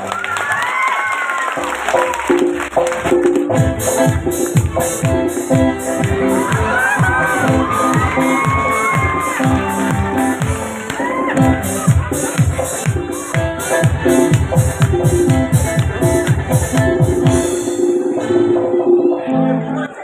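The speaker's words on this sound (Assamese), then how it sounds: "হাত চাপৰি এটা ডাঙৰকে লাগিব" Audience at a stage event applauding and cheering: dense continuous clapping with shouts and whoops, rising in bursts and fading out near the end, with voices over it.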